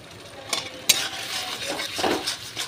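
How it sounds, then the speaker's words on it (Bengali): Spice paste being stir-fried in a pan over a raised flame: soft continuous sizzling punctuated by a few sharp spatula scrapes and knocks against the pan, close and moderately quiet. "তো মশলাটাকে একসাথে করে ভালো করে কষিয়ে নিতে হবে"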